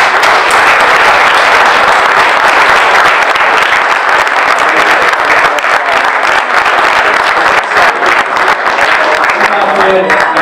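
Sustained audience applause at a talk by a rally car engineer, dense steady clapping from a large crowd lasting throughout, loud and close with no pauses.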